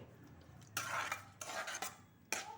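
A spoon stirs curd curry (mosaru curry) in a metal pot, making quiet scraping with a few sharp, bright clinks against the rim in irregular bursts.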